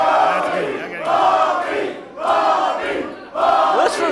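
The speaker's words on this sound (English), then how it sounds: "Listen to this crowd." Crowd at an independent wrestling event cheering and roaring in loud repeated surges, swelling and dipping about every second, with no talk over it.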